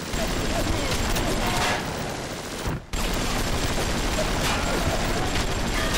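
Sustained machine gun fire in the video game Bioshock on Xbox 360, a dense continuous rattle of rapid shots that breaks off for a moment, then resumes loud and unbroken.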